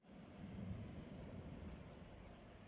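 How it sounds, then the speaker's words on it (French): Ocean waves on the Spanish coast make a soft, low, continuous rumble mixed with some wind noise, heard faintly from a short distance. "Avec le bruit des vagues"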